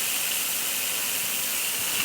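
A McCulloch 1375 steam cleaner vents a steady, loud hiss of escaping steam that runs unbroken for about two seconds, with no talking over it.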